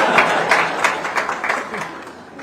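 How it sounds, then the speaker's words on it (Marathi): Audience applause rises and thins from a seated crowd during a Marathi interview in Nagpur, a dense patter of clapping heard at moderate loudness. "या मुद्द्यावर सगळ्या नवरे लोकांनी टाळ्या वाजवायला पाहिजे."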